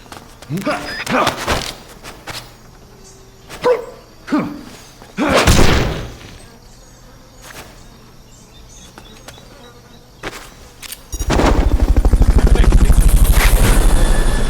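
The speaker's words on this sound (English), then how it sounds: "Fulton recovery subject confirmed onboard helicopter." A loud, buzzing helicopter rotor in Metal Gear Solid: Peace Walker swells up near the end, following scattered thumps and game voices.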